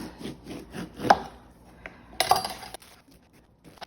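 A knife trimming crust off bread for a bread salad, several soft rhythmic sawing strokes followed by sharper cuts and clinks against the board, close and fairly quiet.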